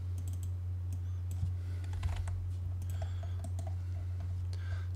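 Typing a command on a computer keyboard while using AutoCAD, a sparse run of light key clicks over a steady electrical hum, quiet and close.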